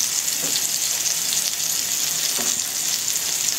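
Beef steaks with large garlic cloves sizzle steadily in a pan over low heat, a continuous close frying hiss with faint bubbling throughout.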